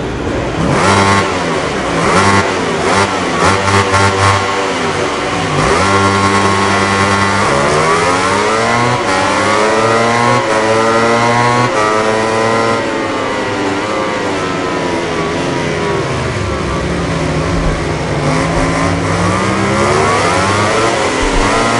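MotoGP 2019 bikes in a video game at the Austin race start, several engines revving loudly together, pitches rising and falling in overlapping sweeps as throttles are blipped and held.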